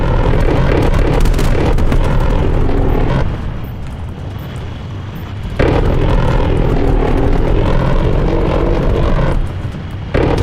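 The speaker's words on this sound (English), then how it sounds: "Enemy spy plane inbound." Spy plane in the Call of Duty Black Ops Cold War multiplayer match passes overhead as a loud, sustained broadband roar, dipping briefly in the middle, then surging back up under the sounds of battle.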